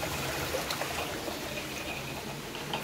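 River water in the Atlas Mountains flows steadily to drive a mill turbine, a continuous close trickling and gurgling stream with no voices.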